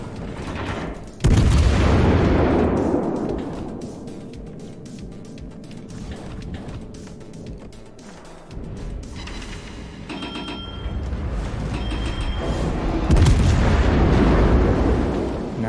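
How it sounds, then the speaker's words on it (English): Heavy naval guns fire broadside from a warship in the World of Warships PC game, loud booming blasts opening and closing the stretch with rumbling, distant artillery and battle noise between. "I get in here where I can get broadside fire on these guys"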